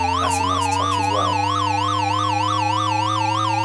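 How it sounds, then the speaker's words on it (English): A police car siren from the ZX Spectrum version of the Chase HQ video game wails as a continuous warbling electronic tone over a steady low hum, loud and unbroken throughout. "one thing you wouldn't get is this siren sound"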